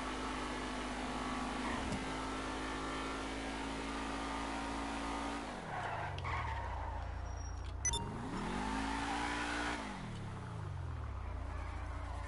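A vehicle engine in what may be a video game revs and drones steadily, drops away with falling pitch, then climbs and falls again, staying loud and close throughout with no talk.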